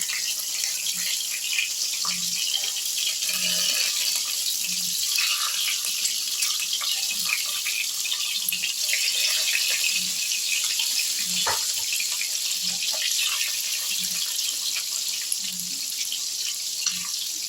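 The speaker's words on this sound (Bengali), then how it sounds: "আমি কুসুমের দিকটা নিচের দিকে করে ভেজে নিচ্ছি, হালকা ফ্রাই করে নেব" Eggs rubbed with salt and pepper fry yolk-side down in hot oil in a home kitchen for egg curry, giving a steady, close, even sizzle with soft irregular crackles throughout and no talking.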